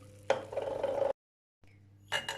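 A spoon stirs milk, egg yolk and sugar in a pot on an unlit stove, scraping steadily for about a second, pausing in silence, then resuming briefly.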